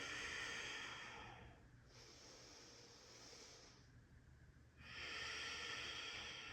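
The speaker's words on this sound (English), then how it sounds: "Exhale. Inhale, lengthen. Exhale, twice more." Slow, deep breaths during a gentle yoga flow, a long airy exhale, then a softer inhale, then another strong exhale, close and steady with no talking.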